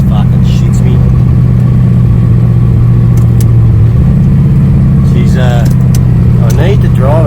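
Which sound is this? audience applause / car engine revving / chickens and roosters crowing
car engine revving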